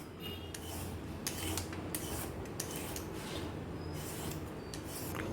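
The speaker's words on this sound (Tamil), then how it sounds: "இப்போ பீலர் வச்சு பீல் பண்ணிக்கலாம்." A vegetable peeler scrapes the skin off a radish in quick, repeated rasping strokes, close and fairly quiet, with no voices.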